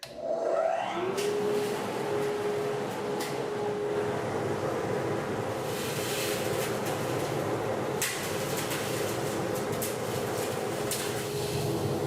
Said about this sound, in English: Let's turn on the dust collector.